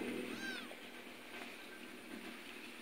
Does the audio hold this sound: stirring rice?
no